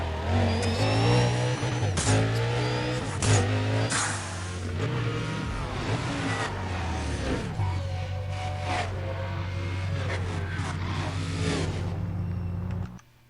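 Race car engines rev and accelerate in a racing video game, a loud continuous drone with rising and falling pitch sweeps and occasional tire squeal, running steadily throughout without speech.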